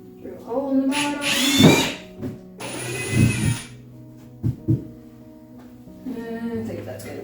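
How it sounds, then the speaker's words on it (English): A drill spins up in two short bursts, boring a hole in the bottom of a plant pot, with brief taps and a soft voice around them. "Drill a hole in the bottom."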